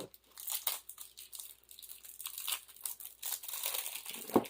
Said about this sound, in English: So we got to go open the next pack of cards to see all of those.